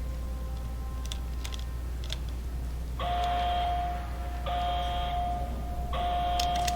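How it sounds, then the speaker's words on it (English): An electronic alarm tone in the video game Portal Stories: Mel sounds in three repeated pulses, each about a second long, loud and steady over a low background hum. "Alarm."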